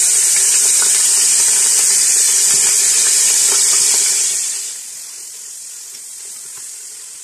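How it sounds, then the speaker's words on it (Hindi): Loud, bright sizzling of onions hitting hot oil, steady for several seconds before dropping to a quieter, softer hiss. "इस गर्म ऑयल के अंदर हम ये सारी प्याज डाल देंगे"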